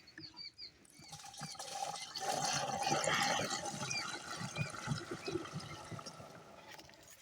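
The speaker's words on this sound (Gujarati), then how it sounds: "આની અંદર હવે પાણી નાખી દઈએ આપણે." Water poured into a pesticide mixture out in a field while spraying a paddy seedling nursery: a steady, rushing splash that swells in the middle and carries on to the end, with no talking.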